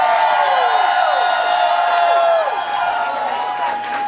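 Audience at a Chicago drag show at Roscoe's, cheering, whooping and clapping in a loud, sustained crowd roar with rising and falling shrieks, while a voice speaks over the noise.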